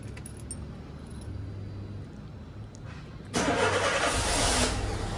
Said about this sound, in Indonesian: Kita hidupkan mobilnya.